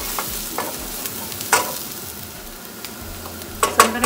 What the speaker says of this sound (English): I have here just 2 cloves of garlic, fresh. And so I'm gonna toast a little bit,